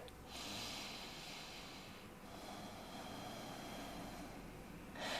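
Deep, slow breathing during an upper-body Yin yoga practice, a steady airy rush of breath held at an even level for several seconds, with a fresh inhale or exhale surging in at the end.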